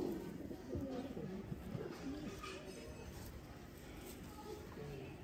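A pair of pigeons coo in soft, repeated rolling calls, faint and a little distant, against a hissy outdoor background.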